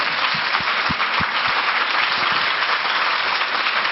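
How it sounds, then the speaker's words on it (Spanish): A conference audience welcomes Baltasar Garzón with steady, dense applause that fills the room evenly for several seconds, with a few low thumps beneath the clapping. "Recibamos con un aplauso al doctor Baltasar Garzón."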